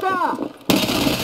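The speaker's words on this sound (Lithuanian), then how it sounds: "Ant laiptų atsargiai metu gronkę." Grenade explosion in the video game Escape From Tarkov, a sudden loud blast cutting in after a moment of quieter game sound and a voice, with a broad roaring burst sustained to the end.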